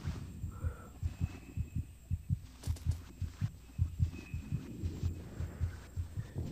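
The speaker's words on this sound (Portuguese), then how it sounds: "Olha meu coração batendo, cara." Steady heartbeat from the video game Among the Sleep, a regular low double thump repeating about twice a second, close and prominent over a faint hum with no talking.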